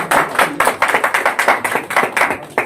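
Audience clapping at a Republic Day music program, a few nearby pairs of hands beating a quick, fairly regular rhythm with no talk over it.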